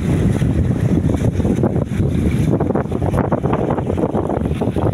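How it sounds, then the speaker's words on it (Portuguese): Strong wind blows over choppy water in Babitonga Bay near the port, a loud, steady roar of gusts buffeting the microphone, mixed with the wash and slap of short waves, with no voices. "Bastante vento e bem ondulado aí, tá vendo?"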